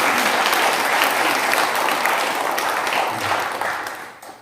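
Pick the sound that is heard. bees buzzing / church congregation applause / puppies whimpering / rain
church congregation applause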